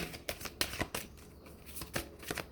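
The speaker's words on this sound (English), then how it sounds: "These cards are so long, so I have to shuffle them this way." Rapid riffling shuffles of long tarot cards in several quick bursts, crisp and close, with short pauses between them and no talking.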